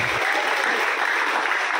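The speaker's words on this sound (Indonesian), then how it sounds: "Tepuk tangan untuk Mumtazah Generation." Audience applause at a Maulid Nabi celebration in an Islamic boarding school, Pondok Pesantren Al Hikam in Rangkasbitung: a dense, steady wash of clapping that holds at an even level throughout, with no voices over it.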